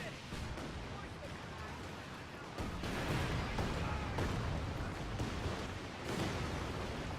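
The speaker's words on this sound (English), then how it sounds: "Ooh, getting hit by all the mortars." Mortar rounds land in a video game battle, a rumbling barrage of muffled blasts and crashes that swells midway and keeps up at a heavy, fairly constant level.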